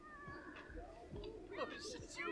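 A sick cat meows in The Sims 4, with several short rising and falling mews scattered under a person speaking quietly over gentle background game music.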